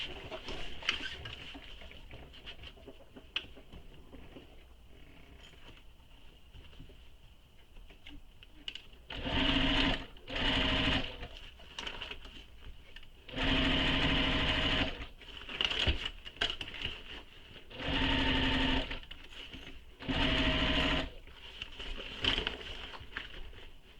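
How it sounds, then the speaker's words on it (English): A sewing machine stitches across the top of a fabric bag in several bursts of steady whirring, each a few seconds long and separated by pauses, close up and with no talking. "now we're going to stitch the top of the bag with the seam allowance given in the pattern"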